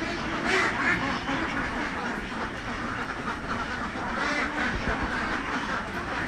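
Ducks quack on a poultry farm of young three-month-old laying ducks, a steady busy chorus of many birds that fills the whole stretch with continuous noisy calling, without a clear break and with no spoken words over it.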